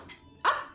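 A dog gives a single sharp, close bark, followed right away by the start of a second, after a brief quiet moment.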